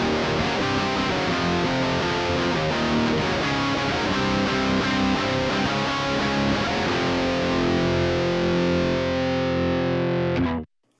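Distorted electric guitar played through a Legacy Drive preamp pedal's cab sim output, a loud, dense sustained chordal wash that rings steadily and cuts off abruptly at the end.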